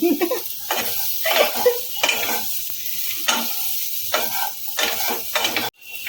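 Spiced potatoes frying in a pan on a gas stove with repeated scraping stirs in a loose rhythm over a continuous sizzle, close and fairly loud.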